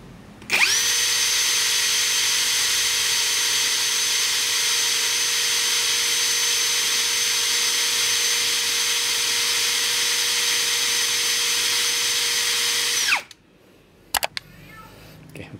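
A Mark-X brushless drill driver spins at a steady high whine in gear 2 for about twelve seconds, loud and close, then stops abruptly, followed by a few brief clicks.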